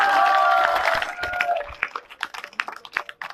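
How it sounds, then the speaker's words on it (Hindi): Crowd at a political rally outside Raj Bhavan in Jaipur claps and cheers, starting as a dense roar that breaks into scattered, uneven claps toward the end. "जोरदार ताली बजा के डॉक्टर साहब।"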